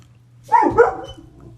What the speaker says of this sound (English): Our dog, Bubby, he's a big lab mix, about 100-pound dog.